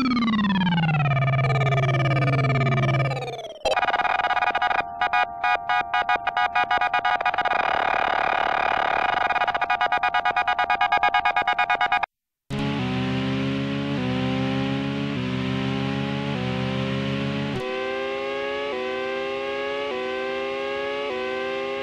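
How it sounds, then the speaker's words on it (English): Korg DW8000 hybrid digital-analog synthesizer from 1985 producing space-age sci-fi tones: sweeping falling pitches, a stuttering rapid pulsed section, then descending chimed chords after a brief gap, loud and alone with no talk. "Up here in the top bank of 80s, I've got just some space-age sci-fi sounds."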